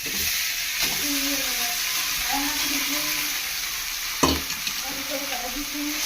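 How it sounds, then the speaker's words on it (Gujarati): Poha fries with potatoes and tomatoes in a pan under a continuous close sizzle. A spoon stirs and scrapes through it, with one sharp knock against the pan partway through. "પૌવાને જો હલાવી નાખીએ અંદર આપણે હવે."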